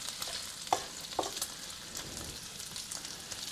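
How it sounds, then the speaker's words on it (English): Bacon frying in a big pan over medium-high heat, a steady crackling sizzle with a few sharper pops, close up and continuous, no voices. "So this bacon's only been on here for maybe 5 minutes on a medium-high heat pan."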